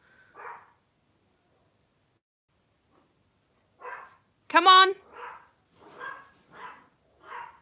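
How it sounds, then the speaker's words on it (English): Dogs at home bark in short separate bursts, some fairly close and sharp, with a louder yelping bark in the middle; a person speaks briefly. "And the barking is putting me off my concentration."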